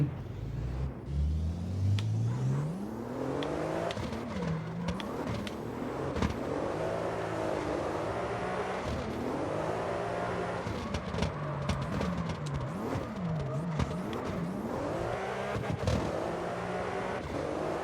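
A drifting car's engine in CarX Drift Racing, revving up and down in repeated swooping cycles as throttle and handbrake are worked, with a steady rumble and occasional tire screech, no talk.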